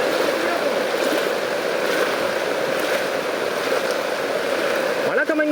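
Knee-deep floodwater from Cyclone Fengal flows through Nallur in heavy rain, a steady, loud, unbroken rushing wash that fills the whole scene, close and continuous from start to end.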